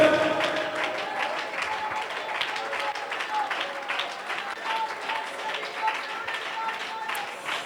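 A church congregation claps hands in praise at a fasting prayer meeting, a dense, steady patter of many hands that carries on through the whole stretch, with voices mixed in underneath.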